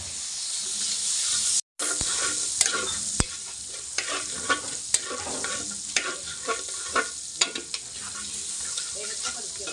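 Spicy shrimp frying in butter with garlic in a pan, a steady bright sizzle and hiss that runs throughout, broken by scattered sharp pops and spatters, close and fairly loud with a brief dropout near the start.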